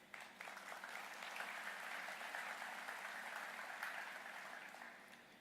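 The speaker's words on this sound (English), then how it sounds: "You can clap on that." Sustained audience applause during a Macon-Bibb State of the Community address, a steady, even wash of many hands clapping at moderate distance that swells and then gradually tapers off.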